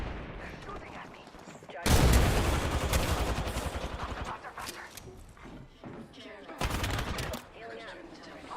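Bursts of rapid gunfire in a video game, loud and dense, with a long volley followed by a shorter one, while a voice talks over the action.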